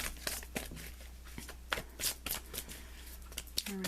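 Tarot cards being shuffled by hand in a series of quick riffling, flapping bursts, fairly close but soft, with no talk over them.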